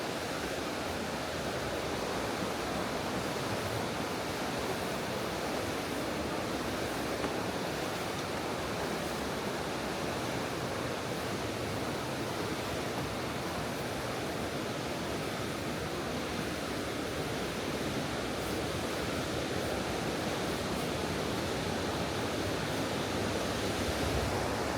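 Ilıca waterfall in Horma Canyon, Kastamonu, roars as a steady, dense rush of falling water that stays constant and close throughout, with no voices over it.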